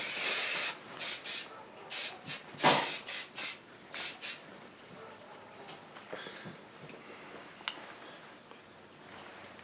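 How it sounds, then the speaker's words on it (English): Cosmetic spray misted from a can in a quick run of short hissing bursts, close and fairly loud, followed by quieter room noise with a few faint ticks. "I want to spray a little bit more because I want to overdo it."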